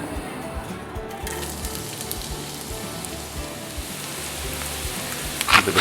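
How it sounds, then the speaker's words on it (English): Onions sizzling in about 1.5 tablespoons of peanut oil in a wok, a steady soft crackle and hiss, fairly quiet, with a brief louder spatter near the end. "and I'm just going to add the onions"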